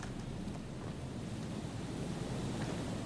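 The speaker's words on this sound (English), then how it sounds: "The wind is so strong." Strong wind roars and gusts steadily through a seaside boardwalk scene in the video game Disco Elysium, a dense, continuous rushing noise like surf that stays loud and even throughout, with no voices.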